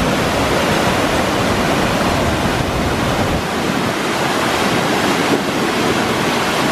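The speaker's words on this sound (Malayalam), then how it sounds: "ഒരു പാറൻ്റെ മുകളിൽ ഇങ്ങനെ വെള്ളം ഒഴുകി വരുന്നതാണ്" Water flowing over a rock in a small waterfall gives a steady, dense rush, loud and close, with no talk.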